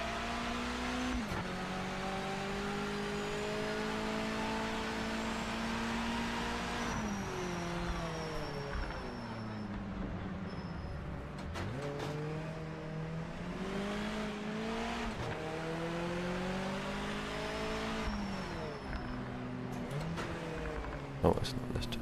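Race car engine in the Project Motor Racing video game, droning steadily with repeated pitch climbs and drops through gear changes, a faint crunching edge underneath and a brief sharp transient near the end.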